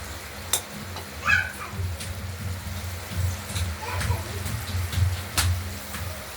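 Continuous soft sizzle and bubbling of stone-ground masala paste sautéing in a pan for a prawn and potato curry, with a low steady hum and occasional light clinks.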